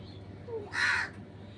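A single loud caw from a nearby crow rises out of quiet morning ambience, brief and clear with no voices.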